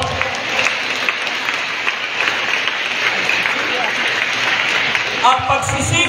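A church congregation applauds with dense, sustained clapping that fills the room at a loud level, thinning toward the end as a voice breaks in.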